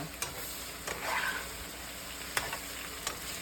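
Balsamic chicken frying in a pan, a steady soft sizzle with a few brief clinks and stirring taps, fairly quiet and without talk.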